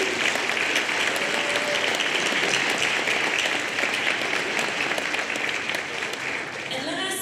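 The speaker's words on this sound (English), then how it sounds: "I just feel like we need to give them a round of applause too." Warm, steady audience applause at a high school senior awards night, thick and continuous before easing slightly near the end, with faint voices in the crowd.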